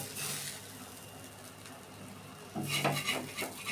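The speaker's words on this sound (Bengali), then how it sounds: "এখন আমি একটা বাটিতে মাছগুলো তুলে নিব" Fried loitta fish is lifted from a pan into a bowl, with soft clinks and scrapes of a utensil against metal; a quiet pause comes first, then a louder burst of clattering near the end.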